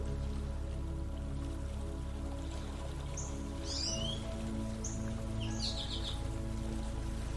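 Steady, soft rain falls around a camper at a campsite, an even wash of drops with a low rumble beneath, while a few faint bird chirps break through in the distance partway along.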